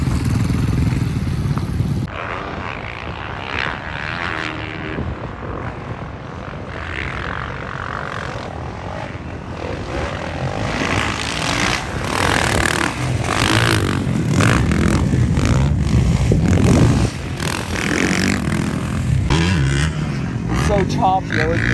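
A motocross motorcycle rides a bumpy track for a first round, its engine running loud and continuous, revving and surging throughout while voices talk over it.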